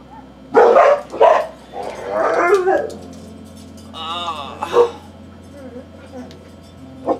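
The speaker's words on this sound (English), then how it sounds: "I know that terrible dog's out running around" A dog barks several times nearby, loud sharp yelps with a whine among them, mixed with people talking.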